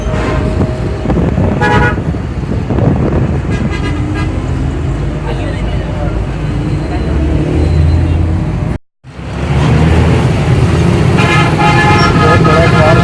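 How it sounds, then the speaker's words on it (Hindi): Crowded car market with dense road traffic, vehicle engines and repeated car horn toots sounding close and loud, while people talk over the din; there is a brief cut to silence partway through. "बहुत बड़ा कार बाजार है, बहुत रश है।"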